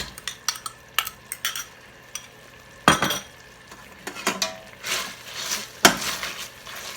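Curry paste for chicken massaman stir-fried in coconut milk, with repeated scraping and clinking of a utensil against the pot in irregular bursts over a soft sizzle, close and fairly loud, no talk.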